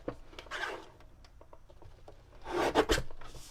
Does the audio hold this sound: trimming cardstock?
yes